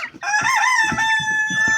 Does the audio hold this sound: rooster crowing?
yes